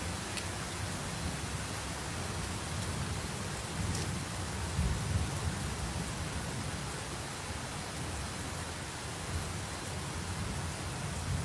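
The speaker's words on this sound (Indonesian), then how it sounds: "Petir kah itu?" Heavy rain pours steadily at night, a dense, even hiss that runs throughout, with a faint low rumble of thunder rising briefly near the middle.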